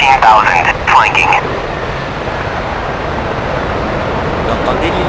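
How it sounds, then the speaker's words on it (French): Helicopter in a Su-25 flight simulator game at Gudauta air base: a steady, moderately loud engine and rotor rumble that fills the clip after a short burst of radio voices at the start. "Vous entendez l'hélico?"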